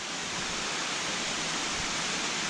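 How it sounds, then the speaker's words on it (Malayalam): Water pours down a rocky waterfall beside a small ornamental fish farm, heard as a steady, soft, unbroken rushing hiss with no voices. "ഇതിൻ്റെ പുറകിൽ തന്നെ ദേ അടുത്ത വെള്ളച്ചാട്ടം"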